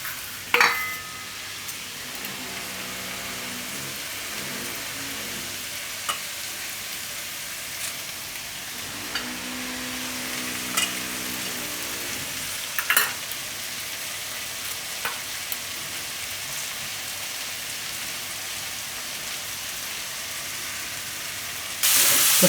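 Onions fry in a pan for rice with potatoes, giving a continuous soft sizzle and hiss with faint occasional clinks, close and steady, with no talking.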